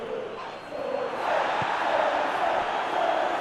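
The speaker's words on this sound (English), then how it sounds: "the crowd clearly like what they just saw" Football video game crowd cheering after a defensive play, a steady wall of stadium noise that swells midway and holds loud throughout.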